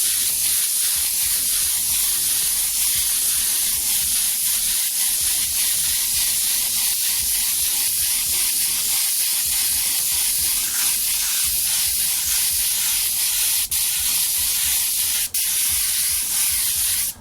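Airbrush spraying paint in a continuous close-up hiss that runs almost unbroken, with a few brief pauses and no talking.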